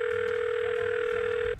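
In The Godfather 2 on PS3, a telephone dial tone plays as a loud, steady electronic hum. It runs unbroken for about a second and a half, then cuts off suddenly.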